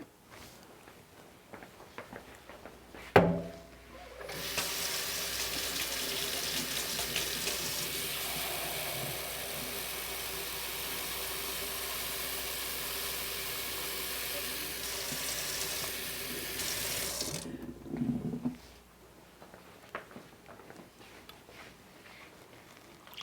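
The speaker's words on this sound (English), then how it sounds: "now we're going to put 3 cups of water" Water runs steadily from a tap into a measuring cup for a baklava syrup, a loud, even rushing stream lasting about fifteen seconds that starts and stops abruptly, with a sharp knock just before it begins.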